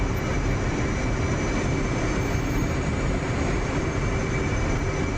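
An E/A-18G Growler jet taxis in the DCS flight simulator, its engine a loud, steady whining roar with a constant broadband rush and no change in pace.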